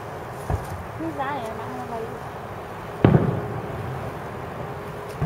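Fireworks at a 2017 show pop and boom at a distance, a few scattered bursts with one sharper crack, under nearby people chatting and laughing.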